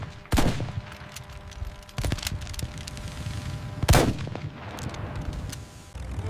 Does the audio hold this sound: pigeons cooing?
no